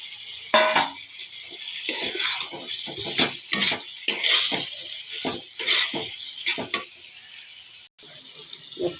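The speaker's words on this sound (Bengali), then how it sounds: "মশলাটা হয়ে গেছে আলু দিয়ে কষানো" Scraping and clattering of a utensil stirring potatoes sautéed with spices in a pan, with bursts of metallic scraping and a soft hiss underneath, close by.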